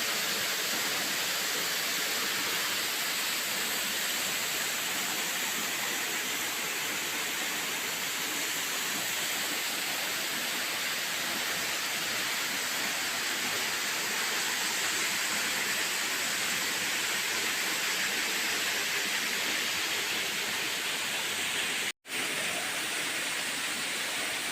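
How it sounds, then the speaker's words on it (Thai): Tham Bon waterfall near Ban Paet Um, Ubon Ratchathani, Thailand, pours in a steady, dense roar of falling water that holds an even level throughout, broken only by a momentary cut near the end. "ลานน้ำตก"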